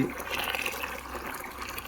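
Hot water pours steadily and close up, a continuous splashing gush lasting about two seconds.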